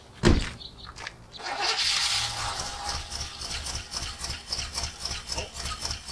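A 1967 Buick GS340 V8 with a worn carburetor cranks over in a steady, rhythmic churn of the starter, with one loud clunk at the start, lasting several seconds without catching.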